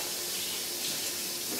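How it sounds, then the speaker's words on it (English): Water from hand-washed dishes drains off a sloped butcher block countertop into a small tub, a steady close-up splashing hiss that runs without pause or voices. "you got some excess water, it comes down, drains into the tub right there"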